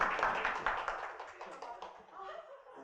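A church congregation at a Sunday service claps briefly for a staff member, giving soft, quiet, uneven applause mixed with murmuring voices and light chuckles.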